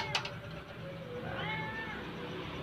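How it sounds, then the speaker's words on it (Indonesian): A pet cat gives a drawn-out meow that rises and falls, fairly close and clear over faint background noise, after a brief click near the start. "Dudung, nih kucingku yang paling nurut."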